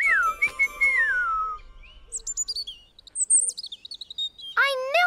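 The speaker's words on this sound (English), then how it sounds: "Ah, a bird." Animated cartoon bird chirping in bright whistled trills and tweets, a long gliding call followed by quick bursts of chirps, close and clear with no talking.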